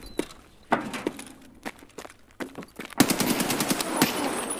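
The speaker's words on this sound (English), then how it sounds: "Oh, it's a shot." Gunfire in Escape From Tarkov on the Reserve map: sparse single shots crack at first, then a dense burst of rapid automatic fire takes over for the last second and a half, loud and close.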